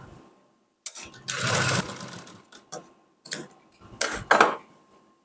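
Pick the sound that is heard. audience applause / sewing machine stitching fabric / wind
sewing machine stitching fabric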